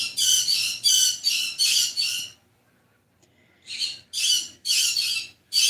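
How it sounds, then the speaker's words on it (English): Pet parrots squawk loudly and close by in a quick series of harsh, repeated shrieks, with a short quiet pause before another burst of calls. "Speaking of my parrots, they are not choosing to be peaceful today."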